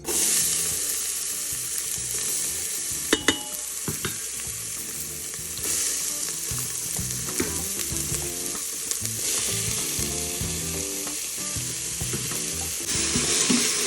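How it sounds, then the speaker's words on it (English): Vegetables sautéing in olive oil in an Instant Pot on high sauté, a steady close sizzle and crackle with occasional stirring clinks and scrapes, no talking. "So we're just gonna cook these until they sweat out and get a nice little saute on them"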